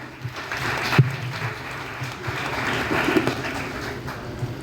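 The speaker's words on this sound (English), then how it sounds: "A big round of applause, please" An audience at a literary festival session applauds, a loose, moderate patter of clapping with a few sharper claps standing out, heard at a middle distance in a hall.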